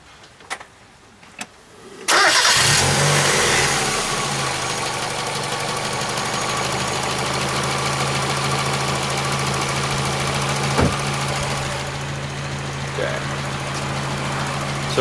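A 1991 Mazda Miata MX-5 engine cranks and catches after a couple of quiet seconds, then settles into a steady, close, continuous idle with a low hum throughout.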